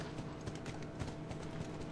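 Horse hooves clip-clop steadily in The Last of Us, a continuous rhythmic patter of hoofbeats riding through a noisy game mix with no speech over it.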